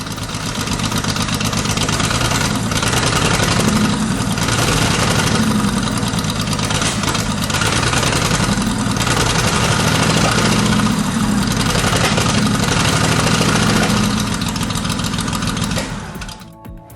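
The engine of a German Sd.Kfz. 251/9 half-track from the Second World War idles loud and close, a steady low rumble with a regular throbbing beat that holds throughout before easing at the end.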